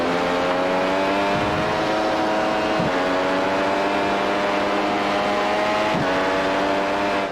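Simulated race car engine in the iRacing game at Zandvoort, a steady high-pitched drone with three brief dips from slow, drawn-out gear changes, loud and continuous with no talk.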